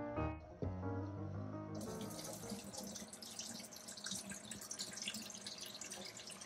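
Water runs steadily into a kitchen sink as grated potatoes are rinsed and drained, a continuous bright splashing rush that thickens after a moment and keeps on without pause or voices.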